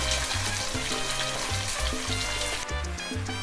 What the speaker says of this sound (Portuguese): Agora vamos dar aquela dourada na carne.